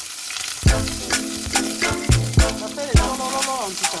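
Onions brown in an overheated pan on a hot plate, crackling and sizzling under repeated stirring knocks and scrapes, close and loud, with a voice speaking briefly over it.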